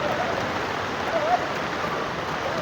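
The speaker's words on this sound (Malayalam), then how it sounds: "മഴ അത്രയ്ക്ക് സ്ട്രോങ് ആയിട്ട് പെയ്തുകൊണ്ടിരിക്കുകയാണ്" Heavy rain pours steadily at the new bus stand in Vadakara, a dense, even hiss of downpour with no letup across the whole stretch.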